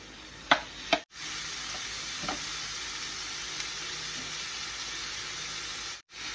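Chicken breast frying in a pan with onion and garlic, a steady loud sizzle throughout, broken by a couple of sharp clanks near the start and brief drops as the food is moved and stirred.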